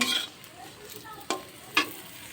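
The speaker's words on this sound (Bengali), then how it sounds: "এখানে দুটো পটল ছিল ভাজছে" Pointed gourd frying in a pan gives a steady, soft sizzle with two sharp clacks of stirring near the end, close and fairly quiet, with no voices.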